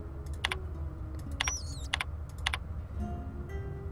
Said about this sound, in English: Oh, I can push buttons now.